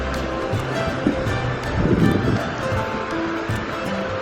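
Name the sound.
flowing river water on the Appalachian Trail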